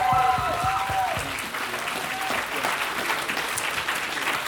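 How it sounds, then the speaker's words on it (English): An audience at a live furry convention show applauds the performers, with broad clapping under a few fading whistles or cheers at the start, then a sustained, moderately loud wash of hands. "I would love for everyone to give these performers a round of applause for what they did"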